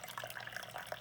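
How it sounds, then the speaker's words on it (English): Water streams from a Keurig coffee brewer into a cup, a faint, brief trickle with soft dripping. "And the stream of water"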